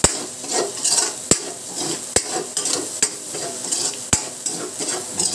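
Garlic, chili and onion sauté in a hot pan with a steady close sizzle, broken by several sharp clinks of a utensil striking the pan at intervals.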